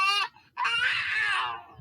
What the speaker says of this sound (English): It's a baby, isn't it?